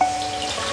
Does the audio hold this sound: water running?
yes